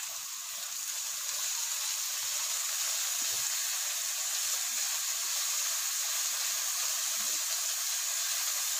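Capsicum, carrot and other vegetables sauté in a pan for a spicy pasta, giving a steady, even sizzle and hiss throughout with no talking.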